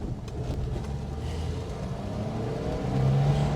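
A 1973 Alfa Romeo Giulia 1300 Super engine, still cold, pulls away under acceleration on a road drive, a steady rising drone heard from inside the car that swells toward the end.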